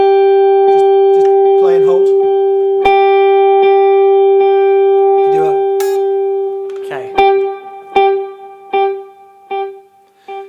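Single electric guitar note sent through a delay effect, its repeats ringing out in steady quarter-note echoes that overlap and slowly fade, with people talking over it.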